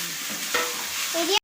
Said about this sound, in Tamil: ஓகே, நெக்ஸ்ட்டு தக்காளி போட்டுக்கிறேன்